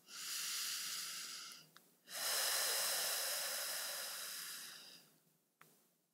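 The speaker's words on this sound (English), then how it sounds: "Two more big deep breaths" Two long, deep breaths taken while lying on a massage ball during a relaxation exercise, each a loud, airy rush lasting several seconds, heard up close with no talking.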